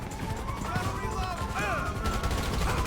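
Gunfire crackles in a GTA V video game session as a few sharp, scattered shots sound beneath loud, excited shouting voices throughout.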